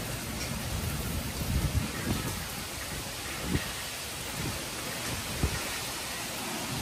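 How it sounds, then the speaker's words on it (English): Heavy rain falling during Hurricane Beryl in Harris County, Texas, a steady broadband hiss with occasional louder gusts and thumps, no voices. "Pretty heavy rain, gusty winds."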